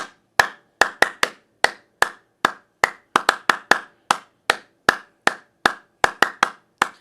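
Sharp hand claps, about twenty, in an uneven rhythm over seven seconds, close and loud, used to set off an American DJ Mega Flash strobe light in sound-active mode.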